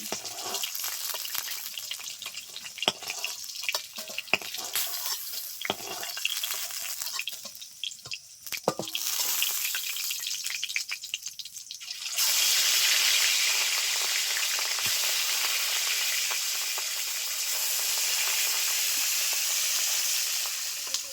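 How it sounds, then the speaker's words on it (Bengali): Pieces of rohu fish fry in hot oil in a kadai, giving close crackling and popping that swells halfway through into a louder, steady sizzling hiss, with no speech. "মাছগুলো ভেজে নিয়ে এসে তুলে নিচ্ছি"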